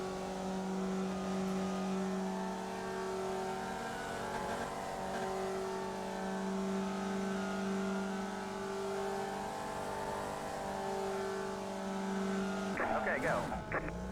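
Race cars in a racing video game, with steady engine drones at several pitches running continuously and a burst of rougher engine noise near the end, under a voice talking throughout.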